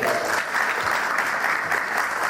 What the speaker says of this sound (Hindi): इस बात पे आपको तालियां बजानी चाहिए।